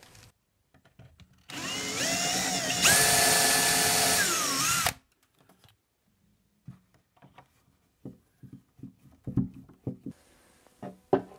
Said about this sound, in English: All I need to do is pre-drill on the cabinet side, put in the screw